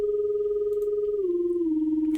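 A Serum synth sine-wave lead whose volume is modulated by a very fast LFO at 32 cycles per bar, giving a rapid flutter; a steady tone that steps down in pitch partway through, alone and fairly loud.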